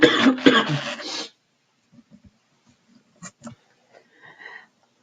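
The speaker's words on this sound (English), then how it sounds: "I start coughing, and then I realize I'm not better." A burst of harsh coughing up front, loud and close, followed by several faint small throat noises and sniffs in quiet.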